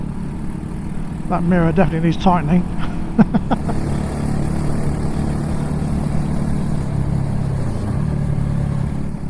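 A 2024 Mutt DRK 250 motorcycle's raspy engine hums steadily while riding, and a voice speaks over the first part of the engine noise.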